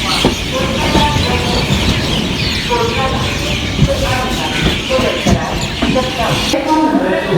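A train at Pathankot railway station makes a loud, continuous rumble with rhythmic clattering wheel knocks and occasional squeals, while background voices carry on throughout.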